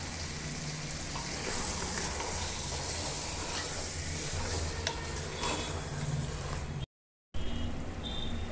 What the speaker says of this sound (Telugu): ఇది బాగా ఫ్రై అయ్యి ఆయిల్ పైకి వచ్చే వరకు మనం ఫ్రై చేసుకుందాము